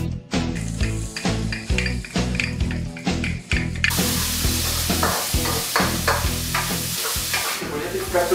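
Garlic sizzles in a hot pan during risotto cooking, a dense, loud frying hiss with stirring scrapes. The sizzle swells brighter partway through and holds steady to the end.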